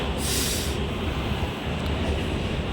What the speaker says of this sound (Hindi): मेट्रो स्टेशन में पहुंच गया है।